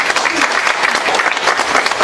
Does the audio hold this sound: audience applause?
yes